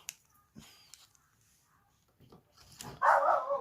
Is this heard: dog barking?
yes